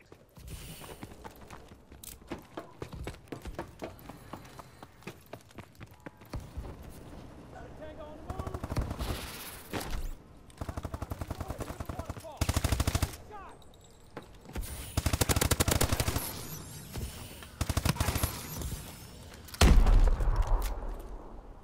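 Rapid bursts of game gunfire in a Search and Destroy match come in clusters of varying length, loud and close at times. Light talk runs under the shooting.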